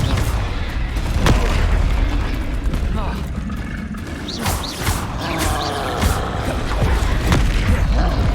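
A Confringo fire spell bursts in a Hogwarts Legacy duel, a loud booming blast with crackling debris in dense, continuous combat noise alongside other spell impacts.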